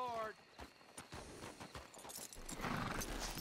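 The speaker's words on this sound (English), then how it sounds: "I should probably hitch my horse just so it doesn't run." In Red Dead Redemption 2, a horse lets out a whinny followed by rhythmic clip-clopping hooves, fairly close and moderately loud, amid busy game ambience.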